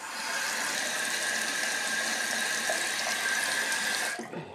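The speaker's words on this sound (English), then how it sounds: "just gonna run the cold water and the hot water" Hot and cold water running steadily from a basin tap into a sink, a continuous close hiss that cuts off near the end.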